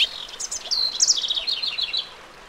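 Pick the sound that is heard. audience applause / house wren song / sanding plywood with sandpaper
house wren song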